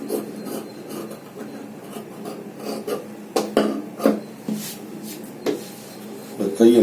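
Scissors cutting through blouse fabric on a table, a run of short rasping snips and rubs that come in uneven bursts, close up, with a few louder cuts near the end.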